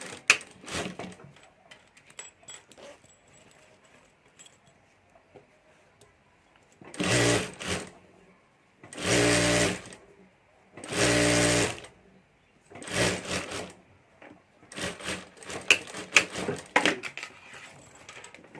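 A sewing machine stitches a strip over the zip of a handbag in several short bursts of whirring, separated by pauses filled with faint handling noises.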